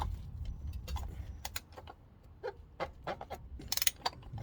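Oil filter being unscrewed on a 2016 Ford Transit during a full service, heard as a run of close metallic clicks, taps and scraping ratchet-like sounds in quick irregular bursts.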